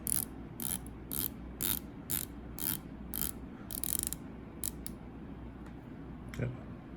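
Breitling SuperOcean 42 dive watch's screwed-down 120-click bezel being turned, giving a close, crisp series of about a dozen regular ratchet clicks in short bursts, with no talking.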